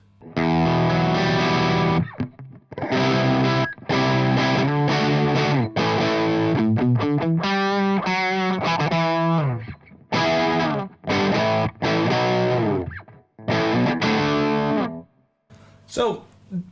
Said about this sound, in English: So, with the blues driver with a Les Paul, it sounds like typical classic rock to me